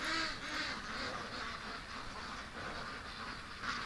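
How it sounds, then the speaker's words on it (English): A flock of ducks quacks and chatters continuously at moderate distance while being herded into an enclosure, with a steady murmur of calls and no clear speech. "The ducks are going in on their own."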